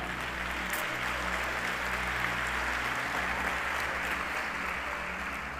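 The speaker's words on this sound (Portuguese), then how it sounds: "dê uma salva de palmas a ele" A congregation applauds at a church worship service, a steady, dense wash of clapping that fills the room without pause, with a low organ or keyboard drone sustained underneath.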